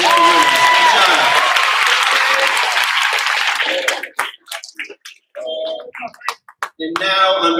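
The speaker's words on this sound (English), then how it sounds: "One more round of applause for our presidential winners" A school awards assembly audience gives a dense round of applause for presidential award winners, loud at first, then thinning into scattered claps and fading out, with a few voices near the end.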